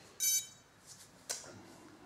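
Startup beeps from a ROA Parkour 280 drone flight controller running Betaflight after reconnection; a short high tone, then a faint tone, then another brief bright beep, quiet against a light background hiss.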